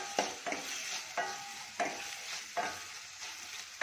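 Chopped ginger and garlic fry in oil over a medium flame for Udupi-style sambar. A soft sizzle runs under repeated spoon stirs and scrapes against the pan, about every half second to second, with no talk.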